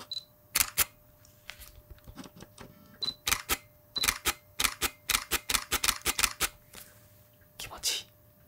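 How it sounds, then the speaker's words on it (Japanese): A Fujifilm GFX 100 II medium-format camera fires its shutter, with a few single clicks followed by a rapid burst of crisp, close mechanical clacks, up to about eight frames per second, with light rain outside. "これちょっとシャッター音聞いてみましょうか。"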